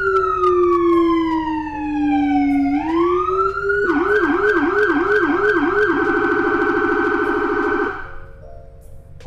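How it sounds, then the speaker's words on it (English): A loud emergency vehicle siren, a Whelen Core unit, cycles through tones: a long slow wail sweeping down and up, then a rapid yelping warble, then a fast piercing trill. "I'll give you guys an idea of the different siren tones on the Whelen and the FS join"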